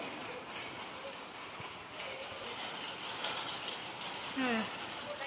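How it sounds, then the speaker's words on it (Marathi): Light rain patters steadily in the background, a soft continuous hiss with faint voices and occasional distant sounds mixed in. "झिरमाट पावसाचं पडत आहे"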